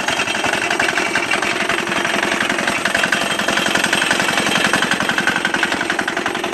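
A 198cc diesel engine mounted on a lawn wagon runs at a steady, loud, rapid clatter, its dense chugging pulses continuing unbroken throughout with no one speaking.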